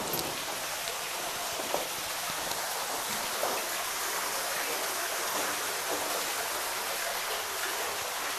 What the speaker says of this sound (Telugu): చూడండి వాటరు ఎలా దుంకుతున్నాయో